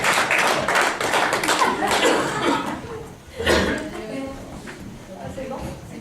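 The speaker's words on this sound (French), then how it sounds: "donne-nous un applaudissement à Dieu et à nous acteurs" A church congregation claps in applause at a French-language worship service, with laughter and voices mixed in; the clapping starts dense and busy, then thins out after a brief dip and continues more loosely under nearby talk.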